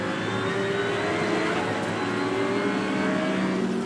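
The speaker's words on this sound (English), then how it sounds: "hard on the brakes, into the right, and through on the inside goes Conor De Filippi" GT race cars in the ADAC GT Masters at Zandvoort roar steadily as they brake and turn into the Tarzan corner, a loud continuous drone of engine tones rising and shifting, with race commentary faintly underneath.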